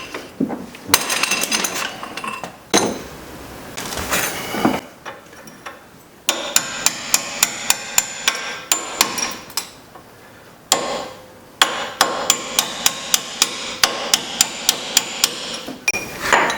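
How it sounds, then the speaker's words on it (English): Sharp metallic hammer strikes on a punch, driving out bolts, ring out in quick bursts, some rapid series of evenly spaced blows, with short pauses between rounds of hammering. "use a hammer and a punch to start driving the bolts out"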